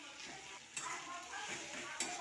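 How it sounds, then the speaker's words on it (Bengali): Eggplant being stirred in a frying pan with tomato and spices for a Bengali begun bharta, giving a steady close sizzle with scraping strokes of a spatula and a couple of sharper knocks against the pan. "বেগুনটাকে দিয়ে ভালো করে নাড়িয়ে নেব।"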